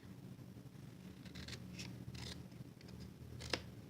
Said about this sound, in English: I'm going to take a pair of scissors, and I like using the big scissors when I have a bigger image.